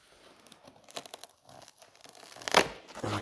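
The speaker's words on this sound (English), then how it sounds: "all I'm going to do to get this out is to cut the foam" Scissors snip through packing foam around the parts of an Ooznest Workbee Z1+ kit, giving close, scattered crinkly tearing and crunching sounds with a louder burst near the end, no talking.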